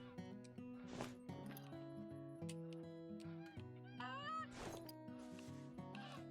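Several honking Canada goose calls in a hunting video game ring out in bursts, overlapping and fairly faint, with brief gaps between them.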